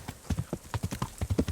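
Horse hooves clip-clop at a quick, steady pace in the medieval video game Kingdom Come Deliverance, a fast horse fitted with horseshoes, heard close and clear with no talking over them.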